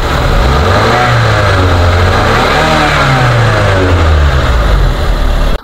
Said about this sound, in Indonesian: kita blayer, suara mesinnya masih normal